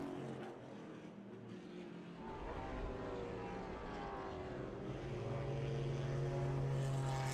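Vintage race cars drive at Mid-Ohio, a steady engine drone heard from a distance that swells slowly louder as a car draws nearer, with no talk over it.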